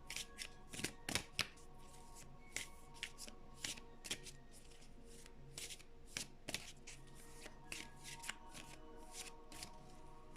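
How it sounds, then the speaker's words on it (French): Oracle cards being shuffled by hand, a quiet, close series of crisp riffling snaps and flicks repeating irregularly throughout, with no voice. "Je vais juste sortir une carte comme ça de chaque oracle."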